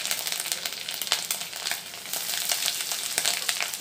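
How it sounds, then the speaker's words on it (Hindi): Green chilies hit hot oil alongside garlic, ginger and cumin for Indian masala pasta, producing a loud, continuous close-up sizzle with occasional sharper pops and no speech. "आउ कचा मरचीटा भी दे देमा।"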